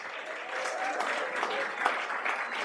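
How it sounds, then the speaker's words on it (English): Brief, steady applause from an audience at a school district event, honoring a high school cheer team, moderately loud and close. "Let's give an applause to Lynwood High School cheer team."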